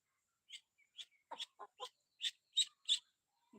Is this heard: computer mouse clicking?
no